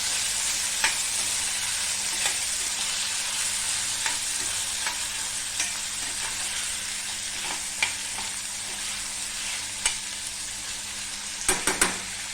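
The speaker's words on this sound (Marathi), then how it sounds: "आता हा आपला कांदा परतून झालाय त्याच्यात आता हा टामॅटो घालायचा टमॅटोला सुद्धा चांगला अगदी व्यवस्थित परतून घ्यायचं" Onion and tomato sauté in a hot pan with a steady bright sizzle, punctuated by regular scraping stirs of a spoon and a quick cluster of clinks near the end.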